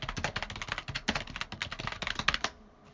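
Rapid typing on a computer keyboard, a close, dense run of crisp key clicks at an uneven rhythm that stops abruptly near the end.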